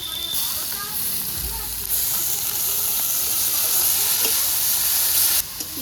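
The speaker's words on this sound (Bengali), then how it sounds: "রসুনটা একটু ভাজা ভাজা হয়েছে এবার এই পেঁয়াজটাই দিয়ে দিচ্ছি" Chopped onion tipped into hot oil in a home kitchen pan, where garlic has already been frying in leftover fish oil, giving a steady, close hiss and sizzle that runs throughout with a faint stirring underneath.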